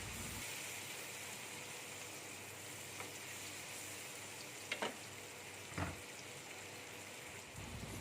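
Coarsely ground shallots, garlic and curly red chili frying in a pan at home, a steady soft sizzle throughout with a few brief clinks of a utensil stirring.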